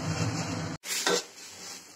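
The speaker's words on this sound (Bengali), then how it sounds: "এবার ডালটা দিয়ে দিলাম, দিয়ে একটু কিছুক্ষণ নাড়াচাড়া করে" Dal (lentils) being stirred in a cooking pan, with steady sizzling and frying noise, a short gap, then a scraping stir burst close by.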